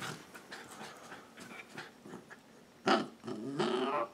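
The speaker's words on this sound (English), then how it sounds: "I don't even think those count as Chewbacca noises, Cody." A corgi makes strange growling noises up close, with panting, grumbly breaths and whimpery rasps. Two louder, drawn-out groans come near the end.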